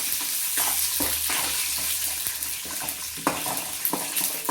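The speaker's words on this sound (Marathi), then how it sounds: "शेंगदाणे सुद्धा लालसर होऊन द्यायचे. मस्त असे तळून घ्यायचे." Peanuts and onion frying in oil for crispy poha chivda, giving a dense, steady sizzle close up, with occasional scrapes and clinks of stirring and no voices.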